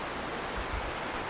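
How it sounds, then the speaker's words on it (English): A creek flowing at Whitney Portal Campground, a steady broadband rush of running water that stays close and continuous through the brief moment, with no voices. "Beautiful creek right here for filtering water."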